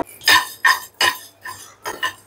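Whole cinnamon, cardamom, cloves and coriander seeds dry-frying in a pan are stirred with a spoon, giving five or six distinct, close scraping clinks in quick rhythm over a faint background, with no voices.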